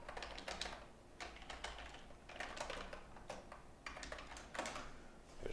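Someone types code for a JavaScript app on a computer keyboard, quick bursts of light clicking keystrokes separated by short pauses, faint and close, with no talking.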